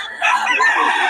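A Golden Monkey gamefowl rooster crows loudly and close, a single sustained cock-a-doodle-doo lasting about a second.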